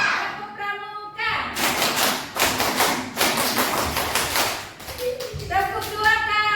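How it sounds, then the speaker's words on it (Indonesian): Children in a classroom doing the tepuk pramuka scout clap, a rhythmic burst of rapid claps and taps near the listener, with an adult voice before and after. "Tepuk pramuka."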